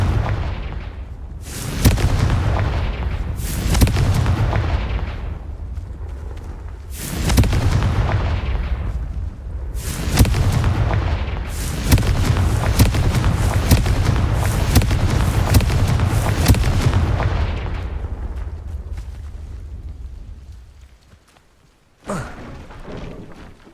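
Confringo explosive spells from Hogwarts Legacy go off in a loud series of heavy, booming blasts with rumbling tails, several rapid in succession, then fading before one final short thump.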